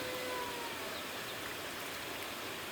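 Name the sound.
heavy rain at a chicken coop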